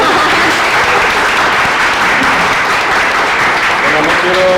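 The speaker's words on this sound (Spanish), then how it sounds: "Un aplauso." Sustained audience applause after a scientific talk on sustainability at the UNAM, a dense, steady wash of many hands clapping close and loud throughout, with no speech over it.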